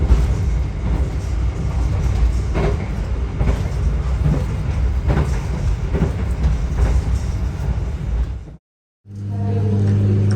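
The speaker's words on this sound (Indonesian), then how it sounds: "Kereta api Gajayana tiba tepat di stasiun Madiun jam 18:10" The Gajayana executive train pulling into Madiun station, a loud steady rumble of wheels and carriages with rhythmic clacks, broken by a brief drop before a low engine hum resumes.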